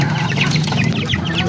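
Pet chickens cluck at feeding time, a busy run of short, close clucks and chirps over a low rumble of background noise, with no talking.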